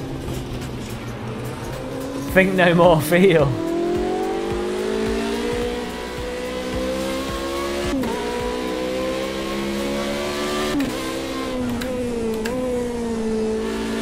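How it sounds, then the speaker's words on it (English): A Ferrari engine in the Project Cars 2 racing game, driven at night, holds a steady, loud drone whose pitch climbs and dips through gear changes. There is a brief harsher burst early on, and a voice is faintly heard. "The Ferrari actually sounds really quite nice."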